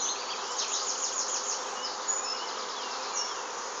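Honeybees swarm and buzz densely at a hive entrance as shaken-out stragglers are driven back inside, a steady, close, continuous drone with individual bees whining past.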